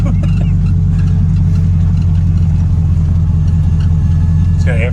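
The engine of an old custom car with rotted-out mufflers runs at idle, a loud, deep, steady rumble with constant low throb close by throughout, with faint voices briefly audible over it.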